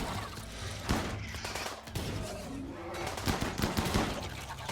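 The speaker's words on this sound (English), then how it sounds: "Because the auto chain shotguns are just annihilating." Auto chain shotguns in the RimWorld video game fire in dense, overlapping bursts, a continuous loud rattle of blasts with no talking.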